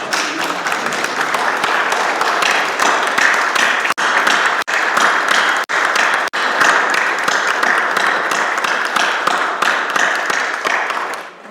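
Steady applause from a church congregation congratulating the mothers, a dense, loud wash of many hands clapping continuously for several seconds.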